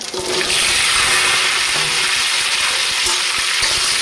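Drumstick pieces and potato with whole cumin hit hot oil in a pan, giving a loud, steady sizzle with a rushing hiss that carries on without a break.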